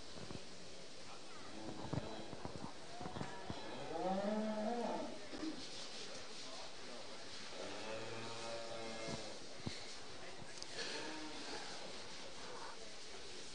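Purebred Shorthorn cattle mooing at a winter farm livestock show, a couple of drawn-out moos over a steady hall hum and faint background chatter.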